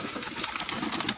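Pigeons kept by a Punjabi pigeon-racing enthusiast coo and flutter faintly in a soft, continuous murmur of calls, with no voices over them.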